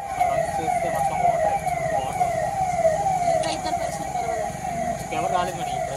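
An ambulance siren on a Telugu news broadcast wails in repeated sweeping cycles, steady and prominent over a rumbling road background.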